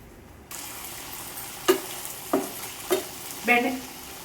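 Fish fries in oil over a medium flame with a steady sizzle, and four short bursts of stirring or turning stand out clearly above it.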